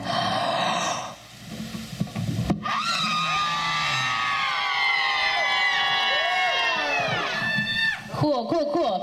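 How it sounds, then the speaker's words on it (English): A concert crowd at a show in Fairview, West Virginia screams together on cue, a loud, sustained roar of many voices lasting several seconds after a short pause, then fading into scattered shouts. "I want everyone to scream."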